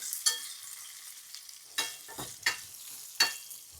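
Oil and chillies heat in a pan for a curry, giving a steady soft sizzle with several sharp stirring scrapes spaced through the clip, close by with no talking.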